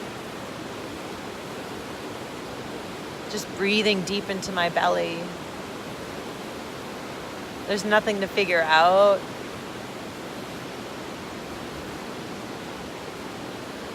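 Steady broadband rushing of water fills the whole clip, a constant close wash, while a person speaks softly over it in two short stretches.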